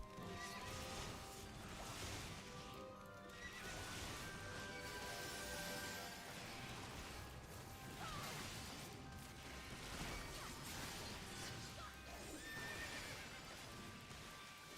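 A horse neighs and whinnies over clip-clopping hooves in the video game Final Fantasy XIV Shadowbringers, set against a busy, continuous bed of game sound, with no talking.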